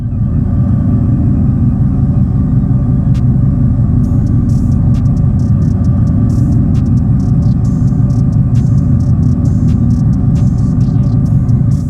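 Dodge EV with the Fratzonic chambered exhaust, emitting a loud, continuous, deep synthetic rumble that holds steady throughout, with faint higher ticks and clicks above it.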